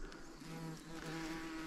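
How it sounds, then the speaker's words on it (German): A large bee buzzing close by while collecting nectar in a meadow, a continuous droning hum whose pitch shifts slightly as it moves. "Das ist eine große Biene."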